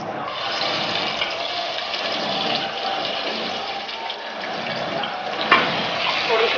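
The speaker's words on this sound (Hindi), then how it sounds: "ये हमने ऑयल डाल दिया। अब हम इसमें प्याज डालने लगे।" Sliced onions fry in hot oil for beef trotter curry, giving a continuous close, hissing sizzle with a brief clatter near the end and no talking.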